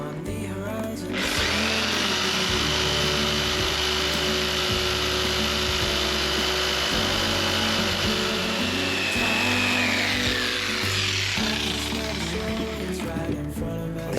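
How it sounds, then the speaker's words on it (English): A jigsaw cuts through masked wood for a barge roof build, a loud continuous buzzing blade run that starts after a second and holds steady for over twelve seconds before winding down near the end. "this wood will splinter away with the jigsaw. So if I mask it up like that and cut around this line"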